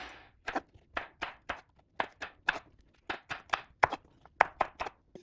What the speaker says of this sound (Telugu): బెండకాయ కట్ చేద్దామండి